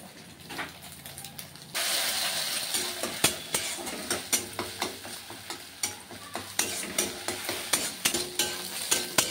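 An egg fries in a pan with a close, continuous sizzle that grows louder partway through, punctuated by regular scraping and tapping strokes of a spatula against the pan, with no voices.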